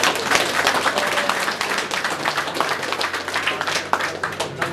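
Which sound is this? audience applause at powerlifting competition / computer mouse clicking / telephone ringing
audience applause at powerlifting competition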